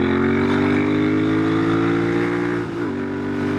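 A custom Royal Enfield Interceptor 650 with a belt drive kit revs hard, a steady loud engine drone with rising harmonics that dips briefly near the end as the throttle shifts.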